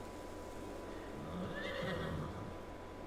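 A horse whinnies in Farming Simulator 22, a rising, wavering call over a steady low background hum, fairly close and moderately loud.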